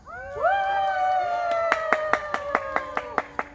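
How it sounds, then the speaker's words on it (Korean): Outdoor audience at a children's eco-environmental movement play in a park, starting with a rising whoop and cheer, then breaking into a run of sharp, evenly spaced claps that land in a steady rhythm. "다 같이 환호성 한번 할까요?"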